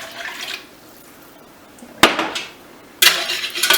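Warm water from a kitchen tap splashes into a bowl of sourdough bread mix in sudden, loud bursts with hissing, splashy texture, separated by quieter pauses.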